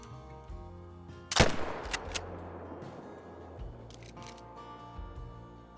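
Single rifle shot fired at a mule deer in the hunting game Call of the Wild, one sharp loud crack followed by a few fainter clicks and echoing tail, otherwise quiet ambience.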